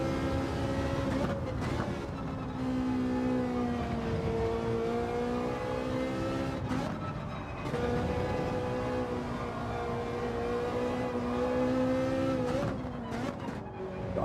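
A race car engine drones steadily in a daily online sim racing event, pitch rising and dipping with gear shifts and occasional tire squeal as the car slides around, continuous and close.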